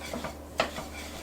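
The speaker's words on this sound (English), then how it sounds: "we are going to stir all this together and turn up the heat and let it cook until the sugars dissolve" A spoon clinks and scrapes quietly against a cooking pot while sugar, cinnamon and nutmeg are stirred together, a few soft taps and one sharper knock in a brief stretch.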